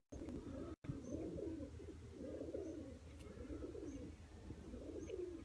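Racing pigeons coo in a loft, soft repeated rolling coos in an even rhythm, close and fairly faint against a quiet background.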